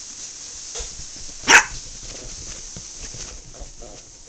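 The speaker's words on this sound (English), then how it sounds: "And now he's just barking and running frantically." One sharp, loud dog bark cuts through quiet background noise, with faint rustling and movement before and after.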